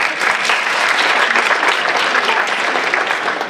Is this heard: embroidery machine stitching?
no